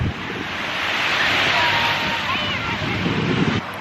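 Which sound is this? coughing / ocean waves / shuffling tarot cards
ocean waves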